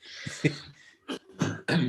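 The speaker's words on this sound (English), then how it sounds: "it's not a COVID cough" A run of harsh, close coughs, four or five bursts spaced unevenly over about two seconds, with quiet gaps between.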